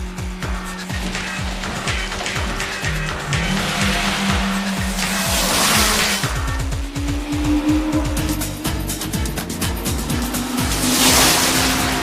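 Racing cars, including a Toyota 86, climb a mountain road in an anime race, with loud, continuous engine revs whose pitch rises and drops through gear changes, plus a rushing whoosh near the end.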